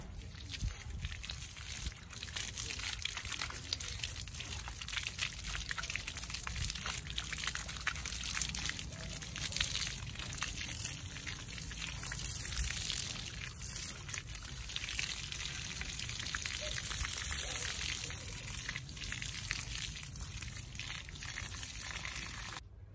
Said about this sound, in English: Watering.